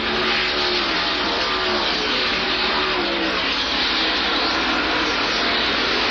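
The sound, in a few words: NASCAR stock cars racing down the straightaway, 1988 Budweiser 500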